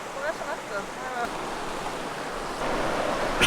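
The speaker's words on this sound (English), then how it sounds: "you have the river right next door" A river flows right beside an off-grid treetop cabin in Norway, a steady broadband rush of moving water, with a voice speaking briefly at the start.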